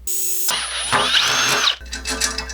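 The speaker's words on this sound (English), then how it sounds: "Then we need to drill a hole right near the end to get a bolt through." A power drill whines loudly up close, rising in pitch as it bites into a metal pipe, then cuts off into quieter clatter and handling noise.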